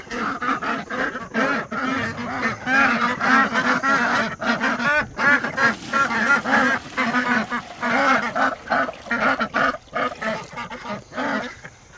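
Ducks and ducklings in a barn, a busy flock quacking and honking continuously and loudly at close range, calls overlapping in dense bursts with no speech.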